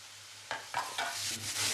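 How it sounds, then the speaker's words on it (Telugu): Boiled black chana frying with pumpkin in a pan, cooked Bengali style as kumro'r chokka: a steady sizzle with a few distinct stirring scrapes and clacks, close and moderately loud, no voices. "ఆ బాయిల్డ్ చనాస్ కదా, సో అవి కూడా కొంచెం ఫ్రై అయిపోద్ది"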